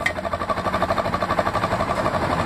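A Honda Bros motorcycle, smoking just after an oil change, runs with a steady, rhythmic pulsing engine note that stays even and moderately loud throughout.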